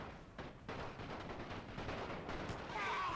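Gunfire from soldiers in the World War I strategy game The Great War 6.0: a dense, distant crackle of rifle shots rolls on steadily, with a few sharper reports standing out and no voices over it.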